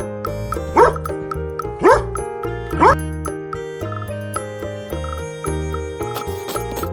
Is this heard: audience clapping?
no